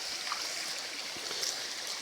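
Clean water runs in a stream at a waterfall, a steady, hissing, gentle flow heard alone without talk.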